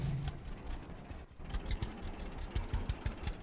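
A tractor engine idles in the Farmer's Dynasty farming game, a mid-pitched rhythmic chugging with a steady knocking pulse running throughout at moderate volume.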